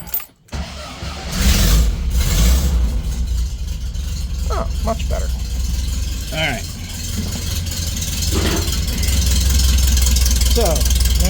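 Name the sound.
car engine starting then idling after distributor install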